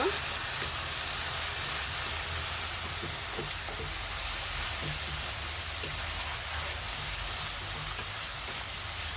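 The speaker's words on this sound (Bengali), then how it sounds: "আমি এই উপকরণগুলো ভালোভাবে কষে নিব" Spices and dried chili sauté in hot oil for a shrimp curry, producing a dense, continuous sizzle like steady rain, loud and even throughout with faint stirring taps.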